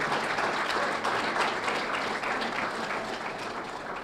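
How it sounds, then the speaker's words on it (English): Steady applause from an audience at a student-athlete graduation celebration, honoring parents and families, a broad even wash of many hands clapping at moderate distance with no talk over it. "Round of applause for them"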